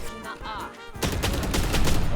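Gunfire from the Valorant video game, a short burst of loud, rapid shots dominating the second half after a quieter stretch with some voice-like sound.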